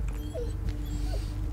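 A dog whimpers and yips softly in the horror video game Blair Witch, two thin whines rising over a heavy low rumble of ambient noise.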